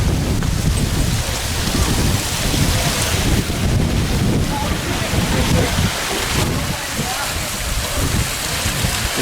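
Resort waterfalls pour in a continuous loud broadband rush, close and dense with steady low rumble and no breaks.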